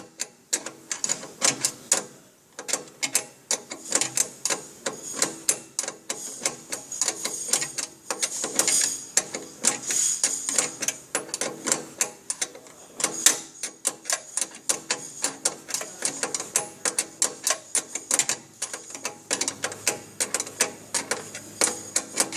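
An AT 250 machine being adjusted and tightened, giving a fast, steady run of mechanical clicking and ticking bursts, close and continuous for over twenty seconds with brief pauses.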